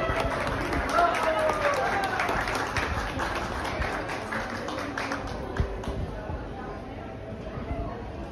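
Audience applause at a vocations expo, a sustained patter of many hands clapping, fairly close, slowly thinning out toward the end, with voices mixed in.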